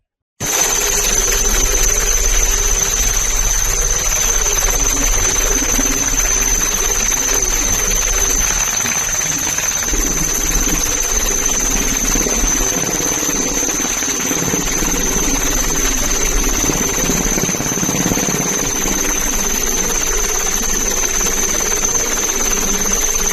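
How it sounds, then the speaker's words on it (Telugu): A coast guard search helicopter flies over the sea during a hunt for missing fishermen, giving a loud, steady rotor and engine drone with a high whine that holds for the whole stretch. "కోస్ట్ గార్డ్ నౌకలు, హెలికాప్టర్లు గాలింపు చర్యలను మరింత ముమ్మరం చేశాయి"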